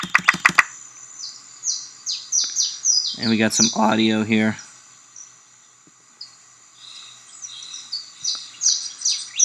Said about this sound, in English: So you got some birds twerping away here